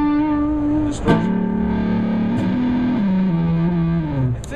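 A heavily fuzzed electric guitar through a Dunlop Fuzz Face pedal sustains buzzing, saturated notes that shift pitch in slow steps, loud and thick with distortion.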